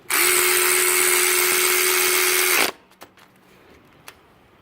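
Snap-on electric ratchet tightening A/C line fittings during a compressor replacement on a Honda Ridgeline: a steady, loud motor whir with a tonal hum runs for about two and a half seconds, then stops abruptly, leaving a few faint clicks and taps.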